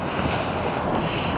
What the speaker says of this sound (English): it is awful windy